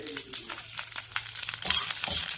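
A tempering fries in a pan for a raw banana chutney, with a close, crackling sizzle broken by scraping stirs that grows louder toward the end.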